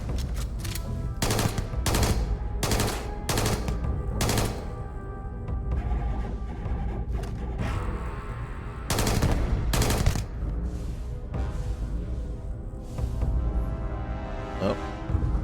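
Loud bursts of enemy automatic gunfire in the sci-fi game Starfield, rattling in repeated volleys over a steady background din, with sharp clusters early and again near the end.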